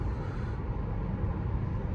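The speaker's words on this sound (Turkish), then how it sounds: "Bu araçta arkadaşlar rüzgar sesi duyuyorsunuz." Inside a BYD Atto 3 at highway speed, a steady low roar of wind noise fills the cabin, even and continuous, with no speech over it.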